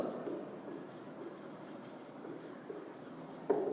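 Chalk or marker scratches numbers onto a board in a classroom lesson, faint scraping strokes running steadily in the background of a quiet room, with one sharper tap near the end.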